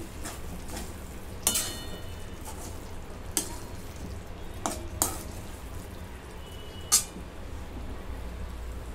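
Paneer being stirred into a mixed vegetable bhaji in a pan, with several distinct spoon scrapes and knocks over a steady low sizzle, close and moderately loud, no voices.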